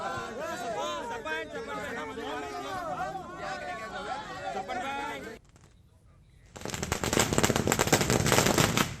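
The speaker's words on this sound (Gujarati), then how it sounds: "જસપાલસિંહનું નામ જાહેર થતાની સાથે જ કોંગ્રેસ કાર્યકર્તાઓએ ફટાકડા ફોડીને ઉજવણી કરી." Firecrackers burst by Congress party workers celebrating a candidate's announcement, a dense rapid crackle of bangs under crowd chatter and voices, pausing briefly before a louder, continuous barrage of popping.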